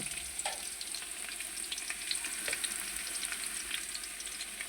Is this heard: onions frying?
yes